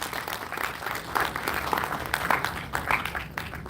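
Audience applause fills a hall during a conference at an engineering institute, a steady wash of many hands clapping at moderate loudness, sustained throughout with small swells and no clear voices.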